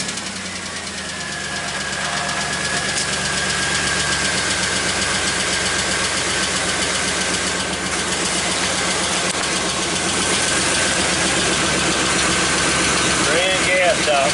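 An old 1994 GMC Sonoma truck engine running with a fuel leak, idling loudly and steadily up close with a rough knocking rumble throughout, over a continuous broadband roar.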